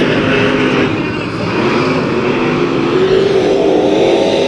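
Race cars running a heat race on the dirt track at Kern County Raceway give off a steady, loud engine roar that stays dense from start to finish, with a commentator talking over it.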